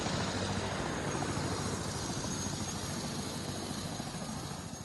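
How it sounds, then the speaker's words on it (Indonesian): A helicopter flies over an earthquake-hit area, its rotor and engine producing a steady, loud broadband roar that holds throughout and eases slightly at the end, with no voices. "Nurdin Abdullah memantau lokasi gempa dengan helikopter"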